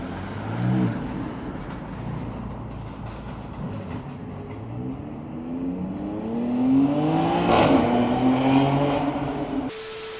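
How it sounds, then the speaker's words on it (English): BMW X3 M Competition with a titanium exhaust, engine note rising from a low rumble into a louder revving surge that swells toward the end before cutting off abruptly. "this titanium exhaust that has a really badass note to it"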